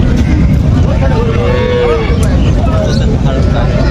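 An Indian bullock lows at a busy cattle market in foggy weather, a drawn-out moo rising and falling over heavy crowd noise and nearby talking.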